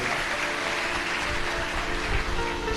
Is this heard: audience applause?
yes